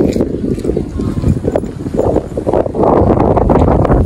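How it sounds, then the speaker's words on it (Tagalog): Gusty wind buffets the microphone at a seaside spot in Lobo, Batangas, roaring loud and uneven throughout with rising surges, while people talk intermittently beneath it. "Ang hangin."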